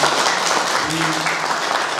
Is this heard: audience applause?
yes